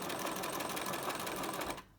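Sewing machine running a steady, rapid top stitch along a dress seam, a dense even buzz of stitches up close that cuts off abruptly near the end.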